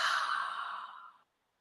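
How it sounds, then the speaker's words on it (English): One slow, breathy exhale during a guided breathing exercise at a sleep seminar, close and soft, trailing off into silence after a little over a second. "perhaps just lengthening slightly the out breath"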